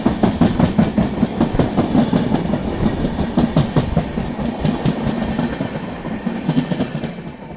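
A special express train races past at speed, its wheels beating a loud, fast clickety-clack rhythm over rail joints, with steady rumble and no talk.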